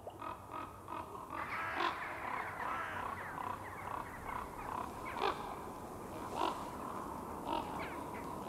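Birds calling at dusk as they arrive at a forest roost in the trees, a loose chorus of harsh, overlapping calls with several louder nearby cries rising above a steady background of distant calling.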